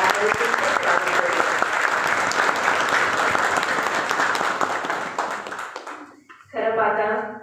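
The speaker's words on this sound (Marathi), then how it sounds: "तुमच्या सगळ्यांसाठीच एक जोरदार टाळ्यांचा" An audience at an award ceremony for meritorious teachers bursts into loud, sustained applause that fades after several seconds, followed by a voice speaking.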